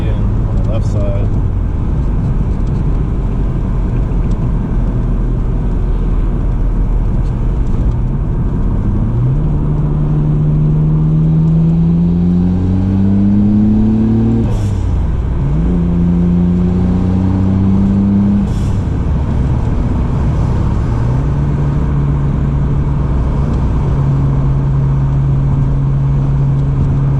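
A Nissan GT-R engine drones loudly from inside the cabin while driving, its pitch climbing and dropping repeatedly through gear changes, then settling into a steady cruise.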